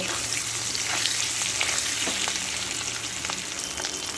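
Potato pieces seasoned with salt and turmeric fry in oil in a pan for chicken biryani. The sizzling hiss is dense and continuous, with occasional popping crackles and faint stirring. No one speaks.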